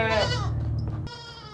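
A tall, healthy goat lets out one loud, close, wavering bleat that fades after about a second, with no other sound around it.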